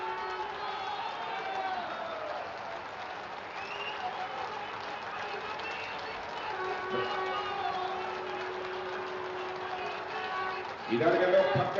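A large crowd at a flyover inauguration event in Lucknow claps in sustained applause, a dense steady patter with a louder surge near the end, with voices mixed in.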